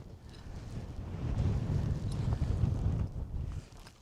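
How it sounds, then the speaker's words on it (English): Steady wind on a mountain top buffets the microphone with a low, rumbling roar that swells in gusts and then eases slightly toward the end. "It's very windy up here."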